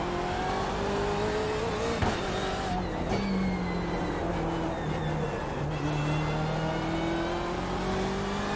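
A car engine pulls hard through third and into fourth on a track, its steady revving tone climbing in pitch with each gear, loud and close throughout.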